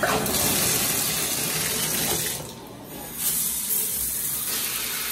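A hotel bathroom tap at a Sleep Inn and Suites in Camdenton, Missouri runs at strong pressure, a loud, close, steady rushing hiss that dips briefly midway before surging back.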